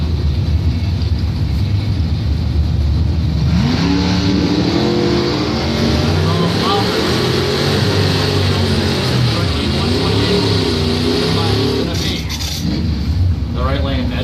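Drag strip race between a 1971 Chevrolet Camaro and a 1975 Chevrolet Vega at a bracket points event, engines roaring loudly and steadily under a track announcer's voice, with a rising pass and fading tail near the end.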